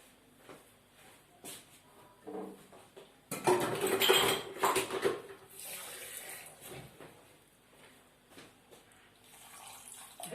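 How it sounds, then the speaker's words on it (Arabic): Chermoula marinade for sardines being mixed with a splash of water in a bowl, with clinking, scraping and sloshing that builds into a busy burst midway and then settles into lighter, intermittent stirring. "المهم دابا غادي نخلط البنات الشرموله ديالي"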